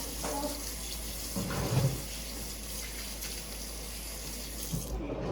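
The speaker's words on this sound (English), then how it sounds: "You probably got a little bit of batter on, so you should wash your hands." Hands being rinsed under a running kitchen tap after mixing banana chocolate muffin batter, a steady close hiss of flowing water splashing into a sink for the whole stretch, with no one talking.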